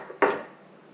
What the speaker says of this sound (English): Now while I'm chopping up the veggies